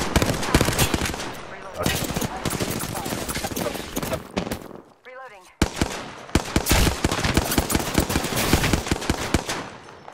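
Rapid automatic gunfire bursts from an Apex Legends firefight fill the scene, loud and near, broken by a brief gap and then resuming in dense volleys.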